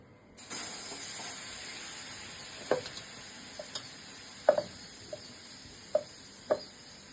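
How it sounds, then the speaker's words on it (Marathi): Soft, steady sizzle of butter heating in a wok to make ghee, with a few sharp pops and crackles scattered through; no voices. "आपले जे लोणी होतं ते मी एका कढईमध्ये गरम करण्यासाठी ठेवून दिलं आहे"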